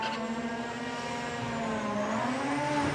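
Drag race car launching at the PTM Show HKS drag series, a high-pitched engine scream held and climbing as it pulls away, loud and fairly close with no talk.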